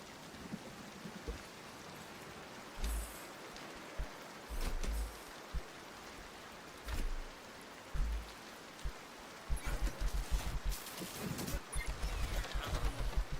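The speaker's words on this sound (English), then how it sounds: "I don't want the rain anymore. I can't wait to get a roof on this place." Video game rain falls steadily as a continuous hiss on an unroofed farm building, broken by intermittent low thumps and knocks.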